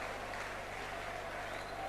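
A stadium crowd at a 1982–83 Wigan vs Leeds rugby league John Player Trophy final cheers for a player, a faint, broad, sustained roar of applause from far away.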